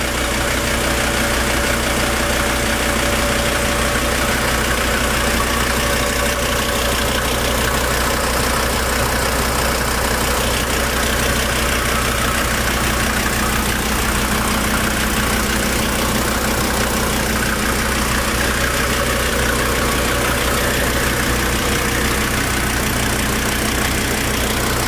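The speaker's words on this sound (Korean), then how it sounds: "엔진 소리, 아이들 진동 다 훌륭합니다" A SsangYong New Korando van's engine idles steadily and close up, a continuous mid-low rumble with a faint ticking knock and no voices throughout.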